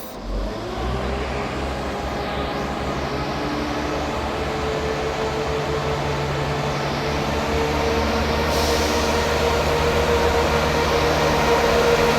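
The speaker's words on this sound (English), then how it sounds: "Departing out now is the 12:58 Scotrail service from Edinburgh Waverley to Cowdenbeath." A Scotrail train pulls out of Edinburgh Gateway station, its engine note and rumble building steadily into a loud, continuous drone with no voices over it.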